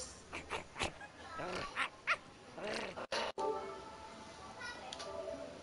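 Puppies in the Minecraft Story Mode video game give several short barks and whimpers in quick bursts, near and moderately loud, under and between spoken dialogue.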